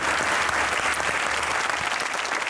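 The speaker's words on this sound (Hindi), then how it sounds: "ताली होनी चाहिए अली के" An audience claps for Ali, a comedian on a TV comedy talk show, a dense, loud burst of applause filling the whole short moment.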